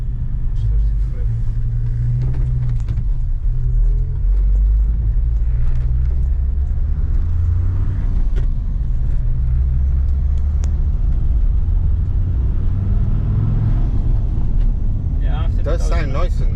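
Turbocharged 1.8T engine swapped into a Toyota MR2 idles with a steady, smooth low rumble close by, running continuously throughout with a few faint clicks near the end.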